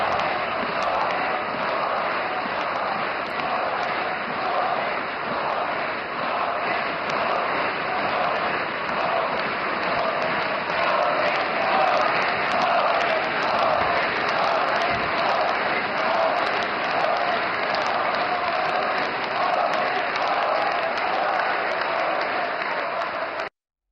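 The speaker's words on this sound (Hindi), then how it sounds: "नीतीश कुमार और चंद्रबाबू नायडू भी तालियां बजाकर प्रधानमंत्री मोदी का अभिनंदन कर रहे थे" Sustained, dense applause from a large crowd greeting Prime Minister Modi at an NDA meeting, with Nitish Kumar and Chandrababu Naidu among those clapping; steady and loud throughout, with no talk over it.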